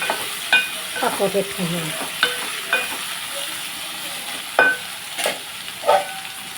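Spoon stirring ivy gourd and coconut fry in a hot pan, with sizzling and a series of sharp scraping knocks against the metal, close and fairly loud, while someone speaks briefly.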